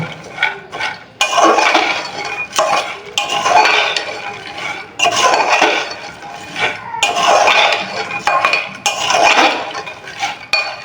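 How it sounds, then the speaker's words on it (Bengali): Ginger being stirred into a pot of chickpea dish with a metal spoon, repeated loud bursts of scraping and clinking against the pot separated by short pauses, with no voices. "এখন আমি আদাটাও ভালোভাবে মিক্স করে নিব"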